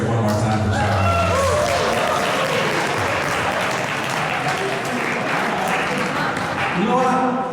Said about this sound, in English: Let's hear it one more time for Charlie.